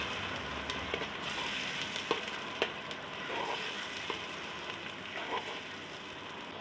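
Onions frying in hot oil over a low flame while being stirred for a chicken curry, a steady soft sizzle broken by sharp scraping taps of the spoon, with no talking.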